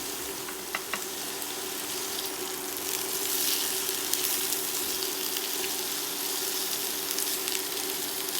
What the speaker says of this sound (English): I added all of the vegetables in the pan. I'm going to let those cook for a little bit.